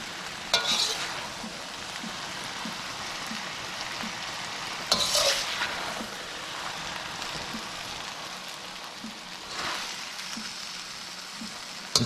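Chicken chow mein with vegetables sizzles and fries steadily in a pan, with occasional scraping stirs breaking through the constant hiss, close and moderately quiet.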